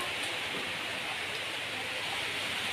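Rain falling steadily, a dense, even hiss of drops with no breaks, quiet but constant and heard alone without voices.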